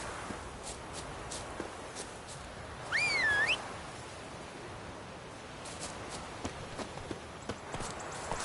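Hooves of Roach, the horse in The Witcher 3, drum along in a steady clip-clop under a game soundscape, with a bright whistle-like tone briefly rising over the galloping partway through.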